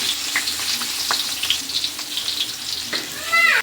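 Cut fish pieces go into a hot frying pan, giving a close, continuous sizzle with small splashes and scrapes, swelling louder at the very end.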